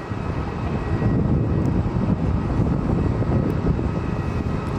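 WestJet airliner in Frozen livery taking off on runway 10 at Fort Lauderdale, a loud continuous jet engine roar swelling slightly and staying steady from start to finish.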